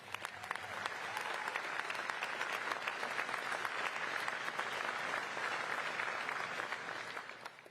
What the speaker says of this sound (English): How about a nice round of applause for firefighter Wilson?